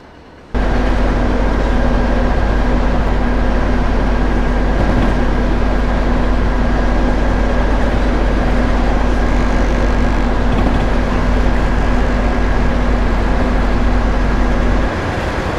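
Steady electric hum like that of a GG-1 electric locomotive drawing power from overhead lines, a constant loud drone with a fixed tonal whine that starts abruptly, holds unchanged for about fourteen seconds, then cuts off, with no talk.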